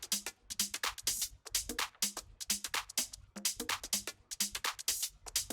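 Minimal house drum tops group with clap: a steady, quiet loop of crisp hi-hats, percussion and clap hits in a tight repeating rhythm, playing alone.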